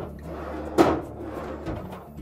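A Whirlpool refrigerator pantry drawer slides along its glides with a single close-miked thump of travel and impact, followed by a faint softer rattle as it settles.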